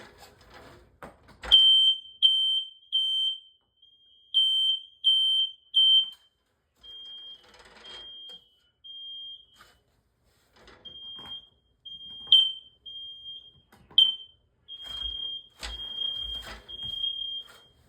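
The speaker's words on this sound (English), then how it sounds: "Now I'm just gonna push the test button for a couple cycles of code 3." A smoke alarm beeps after its test button is pressed, in repeated shrill bursts, groups of three high piercing tones separated by pauses, loud and near, with several alarm cycles.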